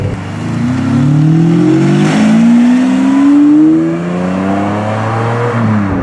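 A Ferrari 550 Maranello with a V12 and stick shift pulls away at low speed, its engine note rising steadily through the gears and the revs climbing and easing back, loud and close from the cabin with no talk.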